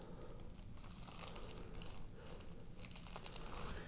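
Parchment paper crinkles softly and close by as a flap is folded over, with intermittent faint rustles and small crackles across a few seconds.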